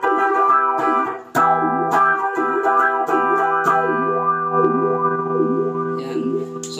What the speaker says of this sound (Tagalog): So napapakinggan naman ninyo yung tunog ng wah.